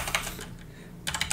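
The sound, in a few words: typing a WP-CLI command on a computer keyboard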